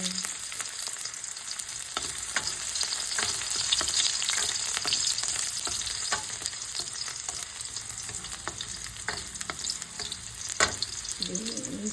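Ginger and garlic sauté in a pan with a continuous close sizzle of hot oil, along with light scraping and stirring clicks.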